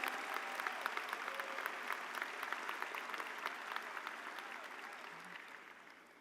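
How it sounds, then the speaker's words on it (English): At a high school commencement, an audience applauds faculty and staff, a dense and sustained clapping that starts full and slowly tapers off, heard from across the hall. "Please join me in a round of applause"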